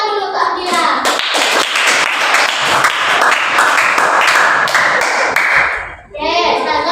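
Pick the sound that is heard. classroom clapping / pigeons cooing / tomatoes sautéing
classroom clapping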